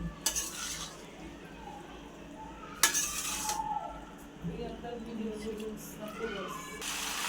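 A spoon stirs a spice and sauce mix for pasta in a pan with scrapes and sizzling, then a sharp clink partway through, while people talk over it.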